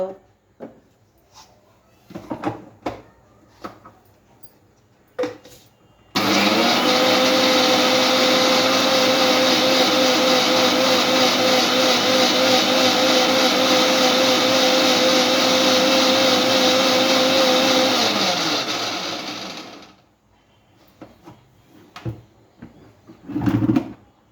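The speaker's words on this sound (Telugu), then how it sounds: "తిరగాలి కదా మిక్సీలో" A mixer grinder whirs loudly and steadily for about fourteen seconds, then winds down; brief talk and kitchen clatter come before and after.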